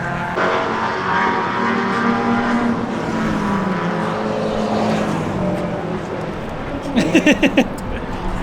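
A rotary-engine race car drones steadily from inside the cabin during a 12-hour endurance race, mixed with wind noise. Near the end, a short run of louder pulsing engine tones stands out.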